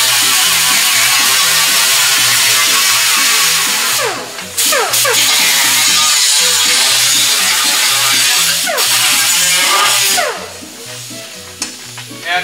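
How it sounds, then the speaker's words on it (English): A power tool cuts off a rusted sheet metal section of a 1969 Volkswagen Karmann Ghia, a loud, close, continuous grinding whine that stutters briefly and changes pitch as the blade bites into the metal. "I'm going to go ahead and cut this section off right here."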